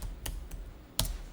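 Several light, close keystrokes on a computer keyboard, including a Tab key press during accounting data entry, give three or four quick clicks with a slightly louder final tap.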